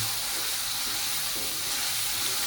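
Food fries in a pan with a steady, close sizzling hiss, even and unbroken for a few seconds while corn and soy-sauce pork are cooked.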